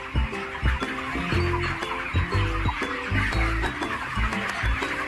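Chickens on a low-cost poultry farm cluck and squawk in a busy, overlapping chorus, with repeated short calls at close range throughout.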